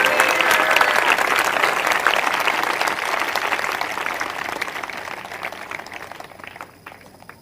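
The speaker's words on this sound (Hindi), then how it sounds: "एक जोरदार ताली प्रभु के वचन के लिए।" A congregation at a church prophecy and prayer service applauds loudly, dense sustained clapping that gradually fades toward the end.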